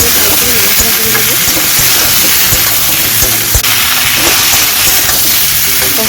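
Spices frying in a pan with salt, turmeric and chilli powder, before cumin paste goes in for a Bengali pui shak dish with Japanese puti fish. A steady, close sizzle with occasional stirring scrapes runs throughout.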